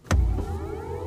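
A BMW iX3 electric car plays its start-up tone composed by Hans Zimmer: a sharp onset, then a sustained low swelling hum with faint rising tonal layers, near and clear, with no talking.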